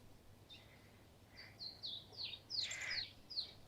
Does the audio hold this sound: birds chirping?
yes